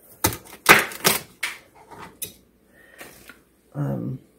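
A knife cuts vegetables into bite-sized pieces on a board, with a run of sharp, irregular chopping clicks close by, then a brief pause and a softer final scrape.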